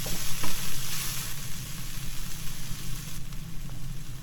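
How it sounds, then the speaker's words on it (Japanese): Hijiki seaweed and soybeans stir-fry in a frying pan, giving a soft, steady sizzle with light scraping stirs, alone and fairly close. "そして水気が飛んだら大豆も加えてさっと炒めます。"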